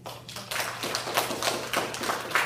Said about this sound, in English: Can you give me a round of applause, please?